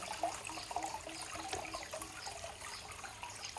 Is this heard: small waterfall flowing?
yes